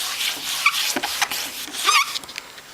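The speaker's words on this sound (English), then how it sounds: "I'll even try flipping it over and smoothing it a little bit down." Hands rub and smooth kraft paper inside an embossing folder, a close, continuous dry rustling with scratchy strokes and a few faint squeaks over nearly three seconds.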